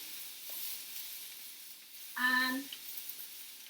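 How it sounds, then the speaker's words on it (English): Food is tossed in a hot wok over a soft, steady sizzle. A short tonal squeal cuts in midway, followed by a few light clicks near the end, all quiet and close with no voice. "I have everything back in the pan. I'm gonna toss it around."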